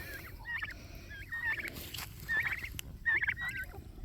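Young turkey poults at a backyard deer feeder give high, thin peeping trills in several short bursts, each a quick wavering chirp cluster repeated with brief pauses, fairly close over a soft outdoor background.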